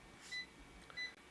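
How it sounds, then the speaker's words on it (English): A phone timer set for film developing gives two faint, evenly spaced electronic beeps in a quiet room. "Okay, well the beeping is annoying."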